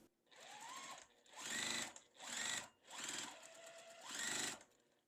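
A sewing machine sews a quilt block from corner to corner in four or five short, loud bursts separated by brief pauses, with a rising whine as each run starts and stops.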